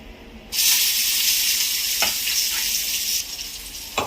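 Green chillies hit hot oil for a tomato and egg curry, giving a sudden loud, steady sizzle that holds for about three seconds, then drops to a softer crackle with a couple of light stirring knocks.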